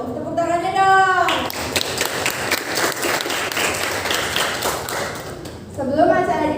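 Audience applause fills a school hall during a student council election event, a dense burst of many hands clapping that builds and holds steady, with a voice speaking briefly before and after.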